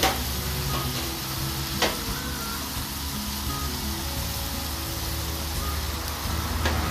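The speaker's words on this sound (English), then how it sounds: "All I'm doing is let the juice cook away." Juice from canned diced tomatoes sizzles and cooks down in a pan while hash browns are made, a steady close bubbling hiss with a few faint clicks and knocks.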